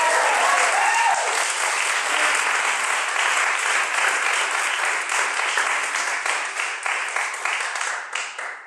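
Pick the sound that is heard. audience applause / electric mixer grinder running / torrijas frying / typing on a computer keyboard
audience applause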